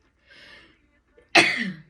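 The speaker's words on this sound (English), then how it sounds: "I'm going to sneeze, sorry." A single sharp, close sneeze bursts out after a short breathy intake, loud and abrupt before quickly fading.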